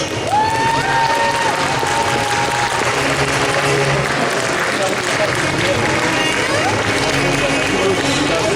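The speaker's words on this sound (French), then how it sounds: "je vous demande de l'applaudir bien fort s'il vous plaît" Audience at a cosplay contest at the SF Connexion 2025 convention breaks into loud, sustained applause, dense clapping from a crowd with cheers and whistles over it throughout.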